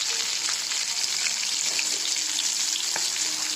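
Spinach and potato vadas fry in oil in an iron wok, a steady broadband sizzle with crackling bubbles holding an even level throughout, close and alone with no voices.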